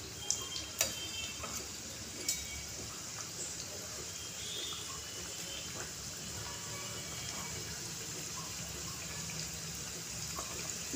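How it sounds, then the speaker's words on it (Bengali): Samosas frying in hot oil in a kadai give a steady, soft sizzling hiss throughout, with a few sharp ticks and pops near the start and no talk. "এমনি করে একটা একটা করে সিঙাড়া আমি তেলের ওপর কড়ায় তুলে দিচ্ছি।"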